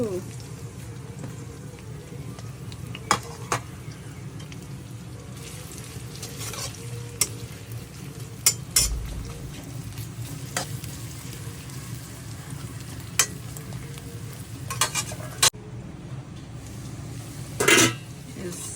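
Chicken fries in oil in a kadai with a steady, fairly quiet sizzle, broken by sharp clinks and scrapes of a utensil against the pan.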